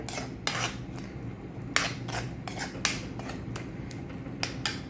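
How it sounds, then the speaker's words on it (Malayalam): A spoon stirs mango pickle mixture seasoned with asafoetida in a pan, making repeated rhythmic metallic scrapes against the pan over a low steady hum, with no talking. "അതിനുശേഷം നന്നായി ഇളക്കി കൊടുക്കുവാണേ"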